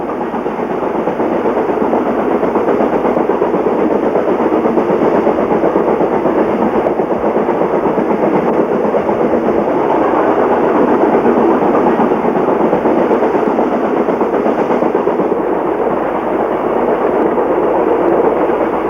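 A steady, loud rumble of a passenger train rolling through Malaysia, a continuous rushing roar with faint rhythmic rattling that holds constant throughout.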